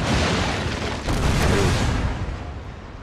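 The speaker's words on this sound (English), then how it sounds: "This is a pretty impressive range for simply just breech-loaded cannons" Breech-loaded cannons fire in the strategy video game Shogun 2 Total War, a dense rumbling roar of distant booms layered together and fading slowly toward the end.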